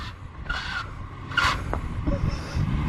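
A car misfiring during a handbrake burnout, its rough engine noise broken by uneven pops and bursts over a steady roar of tyre and exhaust noise, heard from a short distance.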